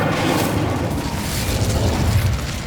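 A fiery Incendio spell bursts in Hogwarts Legacy, a deep rumbling boom with crackling roar that stays loud and sustained for a couple of seconds with no talk.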